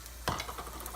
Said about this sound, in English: we have about a tablespoon of oil in the pan, nice and hot, and we're gonna add in our onion